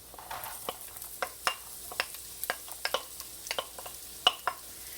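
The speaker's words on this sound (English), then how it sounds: "Now it looks brown, so now I'm going to put my onions." Onions frying in a pan for Ethiopian pasta tibs, with a faint low sizzle broken by a string of light spoon clicks and scrapes at an irregular pace.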